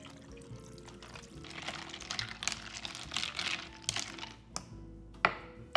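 Club soda poured into a cocktail glass with watermelon chunks, a soft fizzing trickle close up with a few small clinks of glass near the end, quiet and alone without talk.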